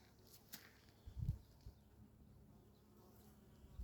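Flies buzz faintly around a dead, maggot-infested fox lying outdoors in nature, a thin, wavering drone with a few soft thumps and rustles nearby.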